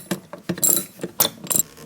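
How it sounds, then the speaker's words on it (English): A 10mm socket on a ratchet tightening a bolt on a removable front license plate bracket on a DeLorean, several quick close ratcheting clicks in short bursts. "So you can use a 10mm socket to tighten up the bolt."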